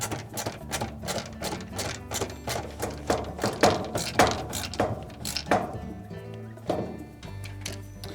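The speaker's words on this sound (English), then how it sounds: "We'll take our 1/4-inch screw, reinsert that." A 1/4-inch screw is driven back into a Whirlpool dryer during a thermal fuse replacement, heard as a dense run of close metallic clicks and ratcheting taps with clattering knocks, a busy, uneven rhythm throughout.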